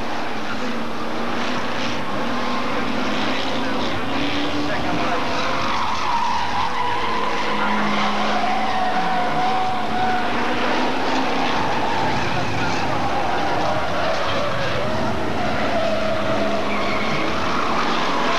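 Hotstox race cars lap a Birmingham oval in a continuous loud roar of engines and tyre noise, with pitch rising and falling as cars pass, while a commentator talks over the racing.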